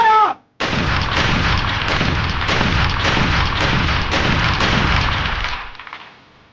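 Soldiers firing a rifle volley at a training drill: one sharp crack after a shouted command, then a long sustained rattle of rapid overlapping gunshots, close and loud, fading out at the end.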